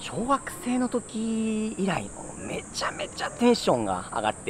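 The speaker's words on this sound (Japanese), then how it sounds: "セミの鳴き声がしますね" Cicadas in the mountains give a continuous high, thin drone running under a person's excited, close talking.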